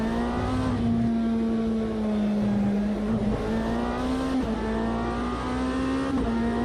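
A race car engine in the Automobilista 2 racing sim holds a loud, steady, sustained drone throughout, with small shifts in pitch as it holds revs under load.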